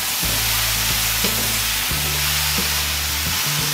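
Mixed vegetables fry in a pan for a five-vegetable mix sabzi, producing a loud, dense, continuous sizzle close by, with a low droning hum underneath and no voices.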